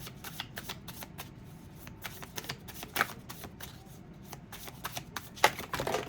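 Tarot cards riffle and slap against each other over a desk in a rapid run of crisp, close shuffling bursts, with a few sharper flicks as cards scatter.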